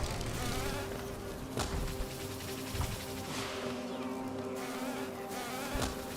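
Steady insect buzzing from bees in the video game Hollow Knight, a dense continuous drone with a few soft ticks, faint and without speech.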